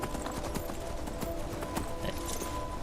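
Horse hooves clip-clopping in Skyrim, the fantasy role-playing video game, a steady run of quick thuds over constant game ambience, with no voices.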